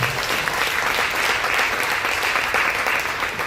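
Town hall audience breaking into loud, sustained applause, a dense steady roar of many hands clapping throughout.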